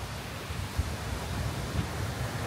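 Strong ocean waves on a beach at Koh Samui make a soft, continuous surf roar with low rumbling swells and a little wind noise, fairly quiet and steady with no talking.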